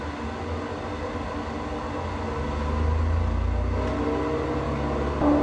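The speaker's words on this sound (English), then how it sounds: "I'm gonna apply my brakes and release my parking brake, start my timer and throttle up." A Van's Aircraft RV-10 light plane's engine throttles up for takeoff, a loud steady droning roar that swells in power midway and holds, heard alone without talk.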